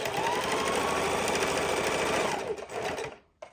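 A sewing machine runs continuously while stitching a fidget quilt, a fast steady mechanical whir that slows and stops near the end.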